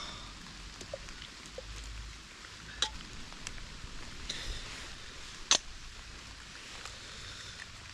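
Rain falls outdoors on a hillside walk, a soft steady patter with a few sharper drips and ticks close by, no talking.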